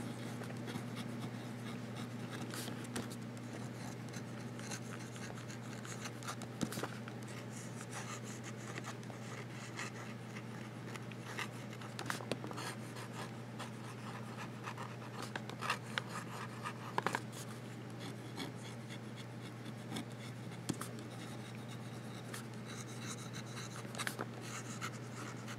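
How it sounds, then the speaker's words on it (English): Vintage Sheaffer fountain pen moving quickly across paper, a soft continuous scratchy rasp of nib on paper with small ticks and strokes, close and quiet over a steady low hum. "Fast writing."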